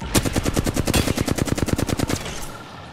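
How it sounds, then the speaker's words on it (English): Rapid automatic gunfire in the Apex Legends battle royale game, a loud sustained burst of evenly spaced shots for about two seconds, then a short tail of quieter ambience. "They spotted me. I'm taking shots."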